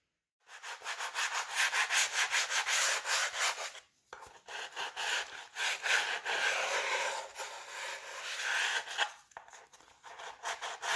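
Sandpaper rubbed over a sealer-coated hull of a 1/20 scale Atlas Van Lines mini unlimited hydroplane model, producing loud, close, rhythmic back-and-forth scratching strokes with two brief pauses.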